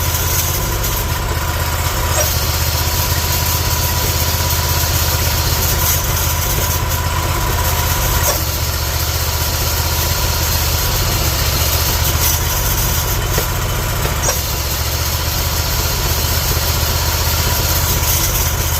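A Craftsman GT6000 garden tractor engine idles steadily after starting, a continuous close mechanical drone and vibration running unbroken for the whole stretch with no voices.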